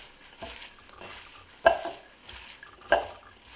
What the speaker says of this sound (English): Sprinkle the kale with salt. Add about 1 tablespoon of olive oil. And massage the kale.